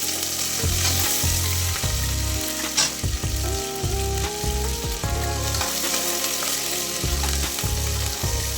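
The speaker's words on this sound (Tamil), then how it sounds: "இதெல்லாம் நல்லா பொரிஞ்சு வர வரைக்கும் வதக்கி விடுங்க" Cumin seeds, chana dal and urad dal fry in hot oil for a one-pot sambar rice, a steady sizzle and crackle running throughout with repeated spoon stirs and scrapes against the pot.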